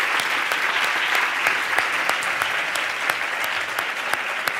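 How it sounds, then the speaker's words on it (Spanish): Steady, full applause from an award ceremony audience, loud and continuous, with sharp individual claps standing out across the whole stretch and no voices over it. "Un aplauso, por favor."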